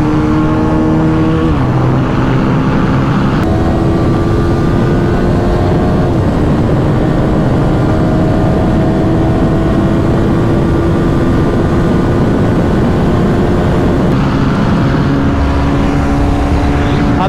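A Yamaha R15M and a Pulsar 220F race side by side on a long run, engines roaring loudly at high revs, pitch climbing through gear shifts as the bikes pass close.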